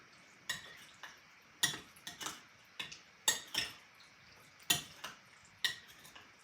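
Tuna bake ingredients being mixed with evaporated milk in a bowl, heard as a series of sharp spoon clinks and scrapes at an uneven rhythm, close and fairly quiet, with no talking.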